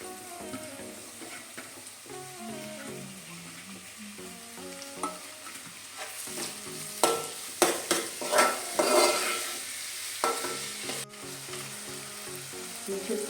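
Chopped tomatoes go into a hot pan of frying onions and sizzle steadily, with bursts of louder crackling and spoon stirring scrapes partway through; no one speaks.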